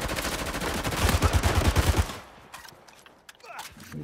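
P90 and M4 gunfire in the video game Uncharted 4, a dense, loud burst of rapid automatic shots for about two seconds, then scattered fainter shots and background noise.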